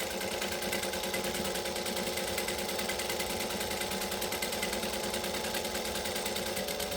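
A home sewing machine running steadily while stitching a sleeveless top from McCall's pattern M6896, a continuous fast mechanical whir with a fine rapid rhythm, close and even throughout, no voices.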